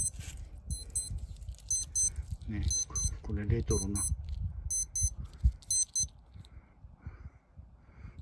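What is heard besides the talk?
alarm beeping from a retro Casio wristwatch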